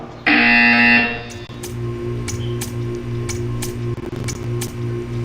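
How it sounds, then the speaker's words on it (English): A loud, sustained electronic buzz from Portal 2 blares for about a second, then gives way to a steady hum with a string of faint, regular clicks. "You will hear a buzzer."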